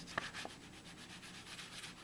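Bicycle LTD playing cards rubbing against one another as they are shuffled, a soft papery friction with a couple of sharper riffles near the start, close and fairly quiet with no voices.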